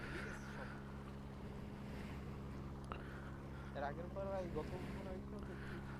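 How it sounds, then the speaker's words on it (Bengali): A fishing trawler chugs along the Baleshwar river, its engine a steady low droning hum beneath wind and water noise, with brief voices surfacing near the end. "নদীতে ট্রলার যাচ্ছে, ফিশিং বোট, মাছ ধরার ট্রলার সাগরের।"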